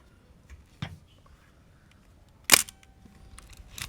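A Nikon F2 Photomic 35mm SLR film camera fires its shutter at 1/2000 second, giving a few sharp, isolated clicks in a quiet room.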